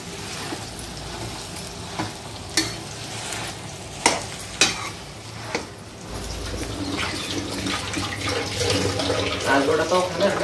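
Mashed potato filling for vada pav is stirred and mixed in a pan, with scraping spoon strokes and taps at a steady pace and a soft sizzle rising toward the end, plus faint background chatter.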